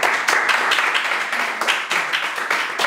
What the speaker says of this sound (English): I'm gonna give a black power and round of applause to my brother Wesley Muhammad